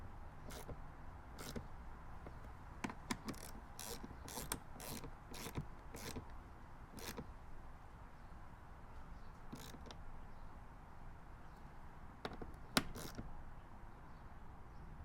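A hand wrench tightening the bolts of TRD door stabilizers on a Toyota Tacoma TRD Pro: sparse, irregular metallic clicks and ticks, close but faint, over quiet background noise.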